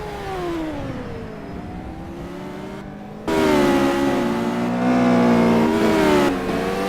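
An Ariel Atom race car engine in the Simraceway racing game revs hard through the gears, its pitch climbing and dropping in sweeps. A louder engine note cuts in partway through and holds steady with no talk over it.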